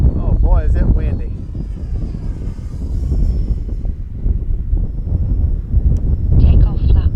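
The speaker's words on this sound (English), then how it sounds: "Oh boy, is it windy." Strong gusting wind buffets the microphone at an RC flying field, a low continuous rumble while someone talks over it.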